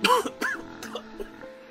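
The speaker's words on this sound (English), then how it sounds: "That was both me, that surprise, and the cough." A person coughs and clears their throat close to the mic, a few sharp rough bursts in quick succession followed by quieter hums and low background noise.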